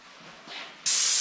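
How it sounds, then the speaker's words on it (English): Paint sprayer spraying paint onto an interior door in vertical passes: a soft hiss builds, then a loud, steady, close spray burst starts abruptly near the end, with no talking. "I'm gonna spray this in an up and down motion"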